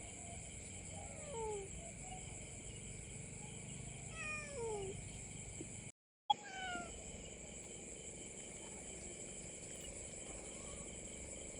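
Several soft, high cat meows come and go at a distance over a steady chorus of crickets, with a brief dropout midway.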